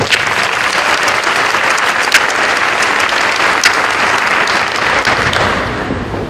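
Loud, dense applause fills a high school class night auditorium as the crowd claps for deserving seniors, sustained and close throughout.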